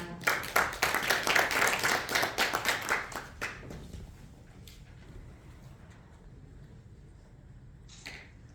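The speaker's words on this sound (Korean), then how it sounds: "큰 박수 부탁드리겠습니다" Audience applause at a national poetry recital contest: dense, brisk clapping from a crowd for about four seconds, then tapering off into a quiet hall with a stray clap near the end.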